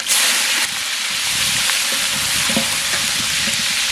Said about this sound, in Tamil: எண்ணெய் சூடாயிட்டு கடுகு சேர்த்துக்கலாம் கடுகு நல்லா பொறிஞ்சிருச்சு பச்சை மிளகாய் சேர்த்துக்கலாம்